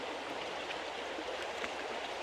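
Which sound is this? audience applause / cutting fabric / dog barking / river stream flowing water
river stream flowing water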